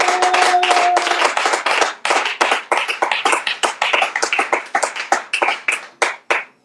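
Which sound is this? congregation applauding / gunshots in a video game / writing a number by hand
congregation applauding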